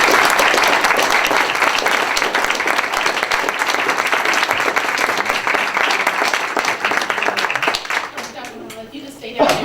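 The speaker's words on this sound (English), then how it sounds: "Ladies and gentlemen, please join me in a round of applause for these outstanding services" Audience at a school board of education meeting applauding honored service members; sustained, loud, dense clapping from a large crowd for most of the stretch, thinning out near the end as voices come through.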